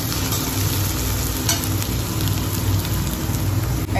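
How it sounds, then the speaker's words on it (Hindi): Shidol dry fish fries in a hot pan with a dense, steady sizzle that fills the whole stretch, broken by occasional scraping stirs, close and loud with no voices. "जब तक ये गोल्डन ब्राउन नहीं होगा, तब तक हम इसे अच्छे से फ्राई करेंगे"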